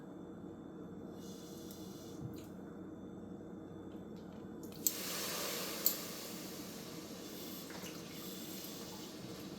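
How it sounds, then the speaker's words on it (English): Three tablespoons of water poured into a saucepan of brown sugar heating on a medium stovetop, a soft steady trickle and splash lasting several seconds with no voices. "I'm going to add 3 tablespoons of water"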